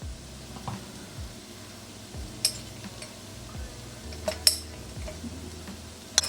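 A metal spoon clinks and scrapes inside a jar of seasoning during home cooking, sharp taps scattered over about six seconds with quieter scraping between, close and alone without talk.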